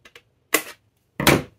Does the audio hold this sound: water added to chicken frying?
no